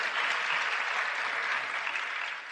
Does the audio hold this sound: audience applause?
yes